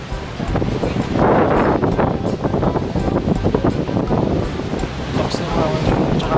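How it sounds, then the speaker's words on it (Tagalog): Strong wind gusting across a high hilltop picnic grove in Tagaytay, a steady loud roar and buffeting close on the microphone that swells and eases, with a voice speaking briefly underneath. "Lakas na hangin dito."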